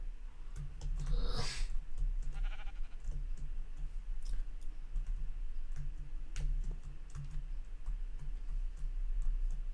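A sheep in a Minecraft-style game gives a short bleat early on. Light clicking and ticking sounds come and go around it, all over a low, steady background hum.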